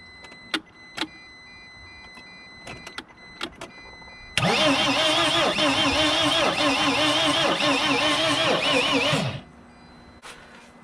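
The starter cranks a 2006 T1N Sprinter van's engine in one continuous whirring burst of about five seconds, and the engine never catches. A few faint clicks come before the cranking, and it cuts off abruptly at the end.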